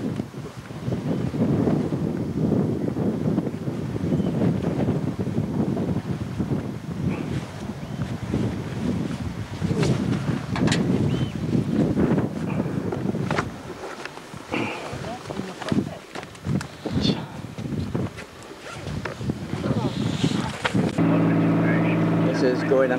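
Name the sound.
ferry boat crossing in wind, Scotland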